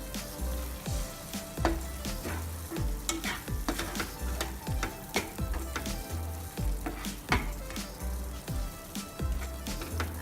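Macaroni paste is stirred in a pan over a low flame, with busy, rhythmic scraping and tapping of the utensil over a soft continuous sizzle, close-up and without talk.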